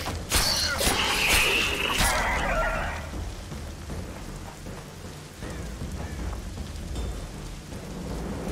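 Heavy rain falls in The Witcher 2 video game with crackling, hissing bursts up front, then fades to a steady, softer patter with faint low rumbles beneath. No one speaks.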